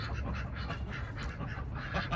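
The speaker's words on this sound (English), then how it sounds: "And here are my ducks." Farm ducks quack in a chatty, irregular series of calls, close by and moderately loud over a low background rumble.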